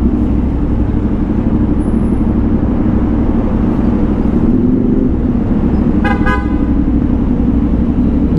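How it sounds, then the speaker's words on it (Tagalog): A brief car horn toot sounds near the end over a loud, steady Kawasaki Z900 SE motorcycle engine and road rumble from traffic. "may busina"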